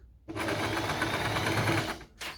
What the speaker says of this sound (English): This is the only part you're sewing here.